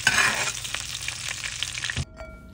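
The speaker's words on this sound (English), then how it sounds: "once that starts to melt, you can go ahead and baste your fillet with it" Snapper fillet sizzling steadily in a hot pan as melting chili butter is basted over it, a loud continuous fry that cuts off abruptly near the end.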